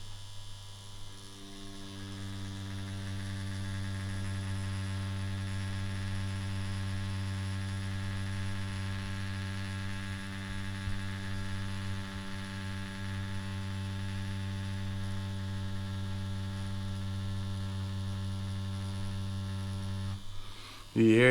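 Yilong F3 adjustable tattoo pen running at a shorter stroke, a steady close electric buzz with a strong low hum and dense harmonics, unbroken for about twenty seconds and cut off abruptly at the end.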